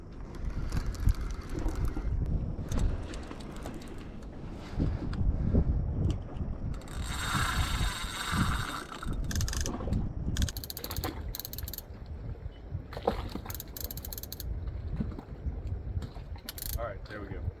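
A fishing reel's drag clicks and ratchets while a shark is reeled in at Atlantic Beach, North Carolina, rapid mechanical clicking in uneven bursts with faint voices and outdoor noise around it.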